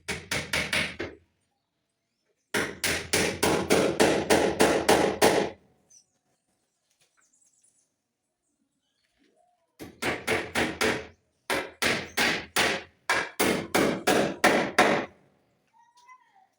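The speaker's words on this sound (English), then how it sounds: "when nailing the profile onto red blocks, you don't nail on the red block but on the mortar joint" Hammering concrete nails into a mortar joint between red blocks to fix a wall profile, in loud, close, rapid strike bursts of about half a dozen blows each, separated by pauses, with no talk.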